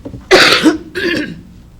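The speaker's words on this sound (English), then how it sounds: "I'm going to start coughing otherwise." Two harsh coughs close to the microphone during a school board meeting, a loud first burst followed by a shorter second one, with no talking around them.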